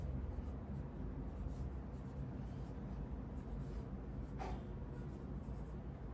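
Marker writing a name on a classroom board during a teaching demonstration, soft scratchy strokes heard faintly under steady room hiss.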